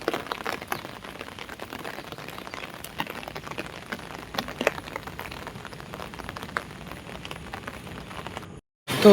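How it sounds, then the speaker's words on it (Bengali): Steady rain on a wet day falls continuously, a dense patter of drops on surfaces that holds at an even level before cutting out briefly near the end. "এখনো অনেকক্ষণ বৃষ্টি চলতেই থাকবে,"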